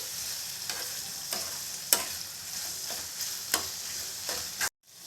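A spoon stirs ridge gourd curry with chopped tomato and chili powder in a pan, scraping in a steady rhythm of sharp strokes over a soft, continuous sizzle, close and alone, then a brief silence near the end.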